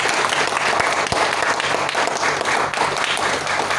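A seminar audience in Berhampur claps for first-time attendees: loud, dense, steady applause filling the room without a break.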